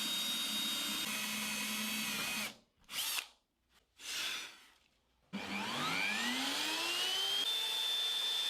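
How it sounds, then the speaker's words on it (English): A loud, steady router whine mills arcs into wood with a circle jig, stops briefly twice, then resumes with a rising, shifting pitch. "drill the center hole and mill the arcs by using a rotor circle jig"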